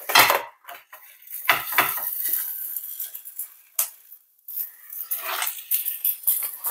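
Palak roti on a plastic sheet is set onto a hot tava amid intermittent clattering and scraping of cookware, bursts of handling noise broken by short pauses.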